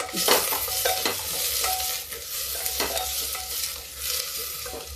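Diced potatoes fry and sizzle steadily in a pan of hot oil, stirred now and then with scraping, close and fairly loud, with no talking.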